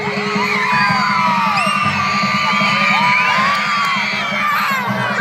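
A crowd at a BMX stunt show screams, whoops and cheers together, with many high children's voices in a loud, sustained roar that swells and holds for about five seconds.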